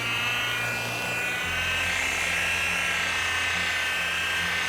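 A polisher with a fresh foam pad whirs continuously while buffing the 13-year-old paint on a 1967 Plymouth GTX, a close, steady motorized drone with a slight pitch shift early on and no talking.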